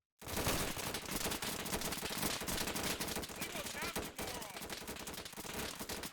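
Video game soldiers fire musket volleys, a dense, continuous crackle of overlapping shots lasting several seconds at steady loudness, with no clear individual reports.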